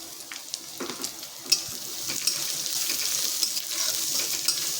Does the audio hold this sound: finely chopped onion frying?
yes